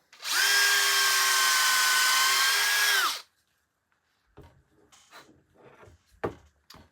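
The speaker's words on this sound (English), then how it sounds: "And we're going to ream this out to fit." A power drill whines loudly at steady speed for about three seconds, reaming out a cork-style fishing rod handle grip, then stops, followed by quiet handling clicks and knocks.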